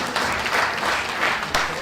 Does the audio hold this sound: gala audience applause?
yes